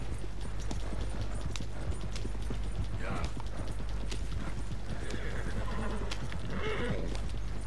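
Horses gallop in a Red Dead Redemption 2 game, their steady clip-clop hoofbeats loud and continuous, with occasional whinnies and neighs breaking through the running rhythm.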